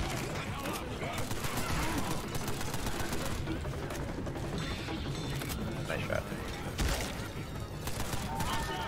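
Rapid gunfire from Left 4 Dead 2 during a Tank fight on the Drop Dead Gorges map, dense continuous shooting with sharp bursts under voices talking throughout.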